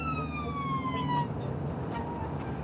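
An ambulance siren wails loudly from the moving vehicle, its tone sliding downward and then fading as road and engine noise continue underneath.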